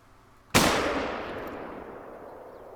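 A single loud, sharp shot from a .357 handgun in theHunter: Call of the Wild, followed by a long fading echo and rumble.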